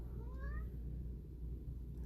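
A cat meows once, briefly and fairly faintly, with a rising and falling call against a low background hum in a quiet room.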